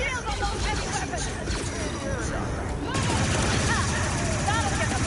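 Blaster fire crackles in Star Wars Outlaws, rapid bursts of shots over battle noise and shouting voices, growing louder and denser in the second half.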